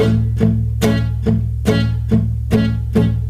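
Palm-muted acoustic guitar strums land in quick pairs, two evenly spaced strokes per beat, close and dry over a low droning tone.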